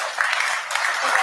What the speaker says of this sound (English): Why are you cheering that?